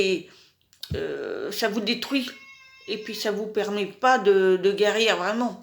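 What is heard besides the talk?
cat meowing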